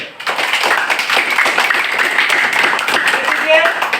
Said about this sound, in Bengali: আমরা একটা তালি দেই ধরে